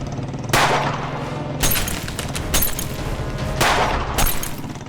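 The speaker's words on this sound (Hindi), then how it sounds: "यहाँ गोलियां चल रही हैं" Gunfire sound effects in a Hindi TV drama scene, several sharp broadband bursts spaced about a second apart, loud against a steady low background.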